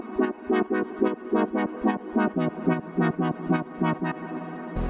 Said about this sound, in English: I also have a wobble pad that I built, and it sounds like this.